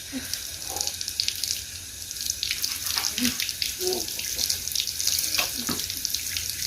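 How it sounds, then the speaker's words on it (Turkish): Tap water runs steadily into a sink while a child washes hands, a continuous close splashing with scattered brief clunks and a few faint sounds of movement. "Ellerini yıka, ellerini yıka."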